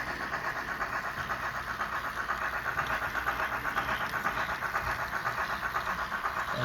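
A model Reading M1 Mikado 2-8-2 steam locomotive on a test run gives a steady running hum with a continuous hiss and rattle, held at an even level throughout without a break.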